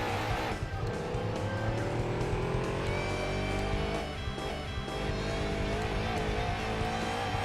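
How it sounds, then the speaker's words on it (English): A race car engine in Gran Turismo 2 drones loudly and continuously, its pitch rising and falling through gear changes, with faint tire squeal. "Perfect engine sound."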